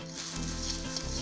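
Rice and chicken frying in a hot wok give a steady, close sizzle that runs throughout, with a low hum beneath and no voices.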